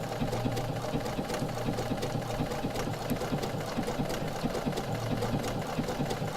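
A domestic sewing machine stitches quilted circles, running continuously with a fast, even mechanical clatter at moderate volume and no talk.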